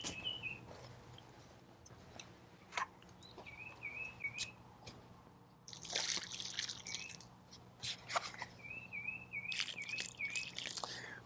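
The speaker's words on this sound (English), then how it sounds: "I'm just going to put a little bit of water on top just to soak everything in" Water is poured onto soil around a newly transplanted tomato plant, making soft drips and splashes in two louder bursts, while birds chirp and tweet in the background.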